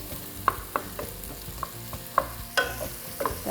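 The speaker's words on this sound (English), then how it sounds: "Let us stir." A spoon stirs tomato sauce with bay leaves in a pan, scraping and tapping against the metal in irregular strokes over a gentle sizzle, close and without talk.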